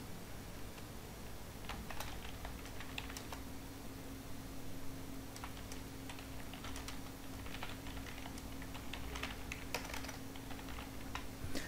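Quiet typing on a computer keyboard in an office setting, soft irregular key taps scattered over a low steady hum, no voices.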